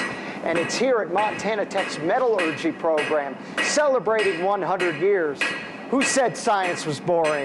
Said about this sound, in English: the sound of hammers slamming